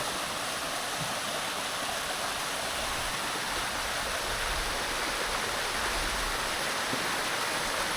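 A waterfall and flowing stream in a Konkan forest give a steady, full rushing roar of water. It stays close and constant throughout with no voices.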